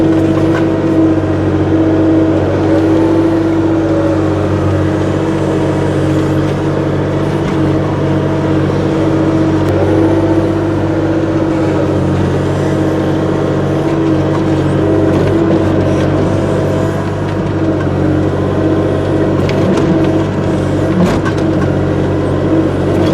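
A heavy earthmoving machine pulls back pond spoils and shoves big rocks aside for a road extension on a ranch, its engine droning loud and steady throughout with continuous rumbling and no talk.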